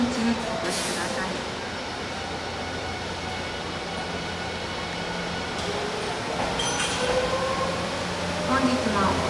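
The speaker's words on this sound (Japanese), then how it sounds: "2番線からは特急列車が発車いたします。" A limited express train departs a platform at Matsumoto Station, its rolling rumble and wheel noise steady under a station announcement, with a couple of sharp chimes or squeals standing out.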